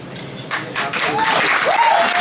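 Audience applauding a slam poet at a poetry slam, a broad steady wash of clapping that swells and stays loud, with whoops and cheering voices rising over it.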